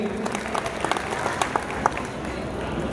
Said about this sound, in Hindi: जोरदार ताली इस बात के लिए हो जाए